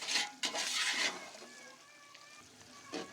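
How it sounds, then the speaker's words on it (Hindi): Mixed vegetable pulao frying in a deghi-style pot, giving a soft sizzle and stirring scrape that is louder for the first second and then settles into a quiet, steady hiss. "और थोड़ा सा यहाँ पे फ्राई भी करेंगे।"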